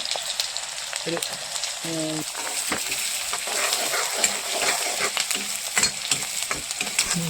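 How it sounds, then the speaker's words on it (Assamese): Goat meat curry sizzles steadily in a kadai, with a spatula scraping and clinking irregularly against the pan as it is stirred up close. "ছাগলী মাংস বনোৱা হৈছে আজি"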